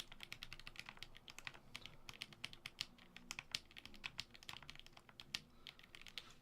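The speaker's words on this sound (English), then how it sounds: "That's just simulated typing." Rapid simulated typing on a mechanical keyboard fitted with Glorious Lynx switches: quick, irregular key clicks and taps, close and fairly quiet, keep going without a break and with no voices.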